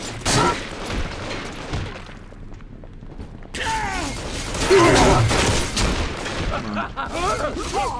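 A gunfire volley in the video game BioShock 2 bursts out amid shouting game voices, loud clattering shots and mechanical creaks followed by a dense, roaring stretch of noise, close and chaotic.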